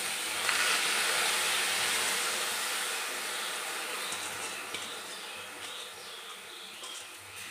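Chopped banana flower lands in a hot wok and sizzles with a bright, steady hiss that starts loud and slowly fades. Faint scraping and clinks sound near the end, and there is no talking.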